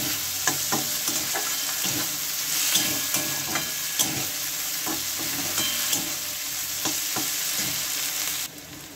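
Ash gourd and shrimp sizzle steadily in hot oil as crushed green chilli goes into the pan, with repeated stirring scrapes and taps over a continuous frying hiss, close and fairly loud.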